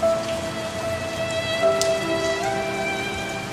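A raindrop sound effect plays as a steady, fairly loud patter of rain falling on a surface, with scattered individual drops and no voices.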